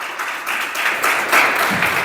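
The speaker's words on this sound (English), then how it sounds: "A huge round of applause for the champions, please." Audience applause for a district champion women's college badminton team at an award ceremony, a dense, steady wash of clapping from a crowd, fairly loud and sustained without talk.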